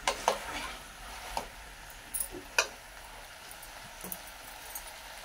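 Vegetable curry cooking in a pan on a gas stove, with a faint sizzle and scattered clinks and scrapes of stirring, close and quiet, no talk.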